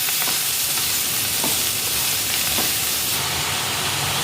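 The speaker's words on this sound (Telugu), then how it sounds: "తోటకూరను అందులో వేసి బాగా కలపాలి" Chopped amaranth leaves hiss loudly in a hot pan, a dense continuous sizzle close up, with a few faint scrapes of stirring breaking through the steady frying.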